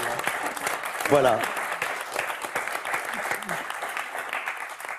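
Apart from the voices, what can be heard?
studio audience applause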